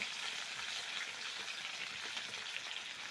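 Chimbori crabs frying in hot oil while being stirred, a dense continuous crackling sizzle at an even level throughout, with no voices.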